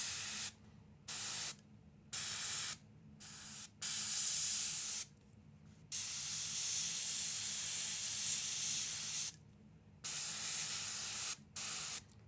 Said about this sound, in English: You can see I'm going to spray a bit on those fingers.